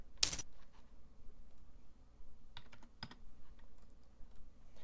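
Typing on a computer keyboard into a Word document: a sharp key clack at the start, then a few scattered soft taps and two short bursts of keystrokes later, faint and close in a quiet room.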